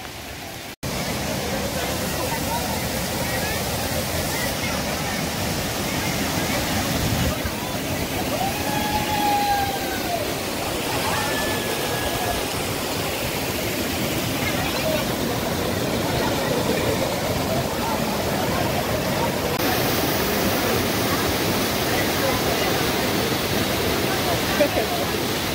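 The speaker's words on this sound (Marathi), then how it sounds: "आपण पाहू शकता आपल्याला वॉटरफॉलचा आवाज येत आहे." A monsoon waterfall in dense forest roars steadily as a broad, constant rush of water, loud and unbroken for the whole stretch, with a few faint bird-like chirps over it.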